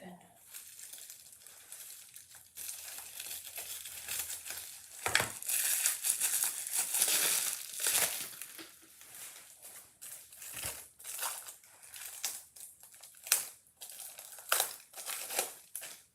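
Plastic packaging for acrylic frames is cut open and crinkled close by, bursts of crisp crackling and crumpling coming in irregular waves over sixteen seconds, loudest around the middle and end.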